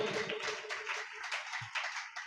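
A church congregation at a Sunday service claps together in a burst of hand claps with a few brief taps, fairly close and lively, without speech.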